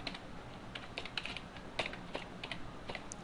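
Keys clatter on a computer keyboard as a localhost address is typed, a quick uneven run of close, crisp clicks with brief pauses and no talking.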